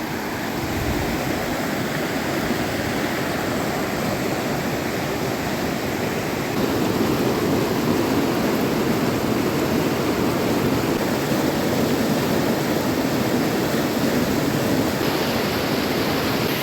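A river rushing over rocks in a park in Jujuy, Argentina, a broad continuous roar of water heard up close, steady and loud throughout, growing slightly louder partway through, with no voices.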